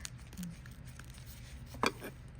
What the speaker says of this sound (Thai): หั่นเลย ไม่ต้องเอาเปลือกออก